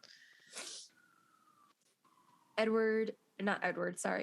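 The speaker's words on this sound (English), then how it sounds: "sneeze." A single sneeze from a podcast host, a sharp broadband burst standing out briefly between stretches of conversational speech nearby.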